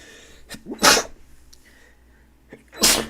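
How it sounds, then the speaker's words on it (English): Two sharp sneezes, each preceded by a quick inhale, close and loud, separated by a couple of seconds of quiet. "Sneeze, my bad."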